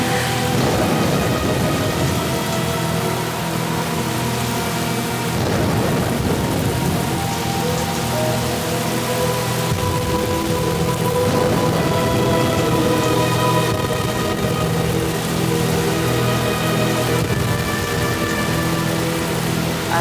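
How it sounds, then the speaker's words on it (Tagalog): Heavy rain pours steadily in a radio drama thunderstorm effect, a dense loud wash lasting throughout, with thunder rumbling beneath it and swelling at intervals. "noong si Lazaro lang ako nakaranas ng ganong kalakas na bagyo"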